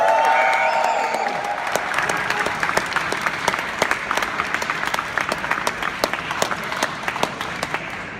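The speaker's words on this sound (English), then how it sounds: "Ladies and gentlemen, make some noise for Ball Control!" Loud audience applause and cheering for a champion at a live event, a dense sustained roar of clapping that starts full and eases slightly while staying steady throughout.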